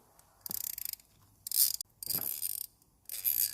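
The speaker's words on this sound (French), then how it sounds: "on dépose les 3 vis de fixation" A ratchet wrench undoes the three fixing screws of the coolant water housing on a Peugeot 207 1.6 VTi 120 engine that has a coolant leak. Four short bursts of quick, close metallic clicking are separated by brief silences.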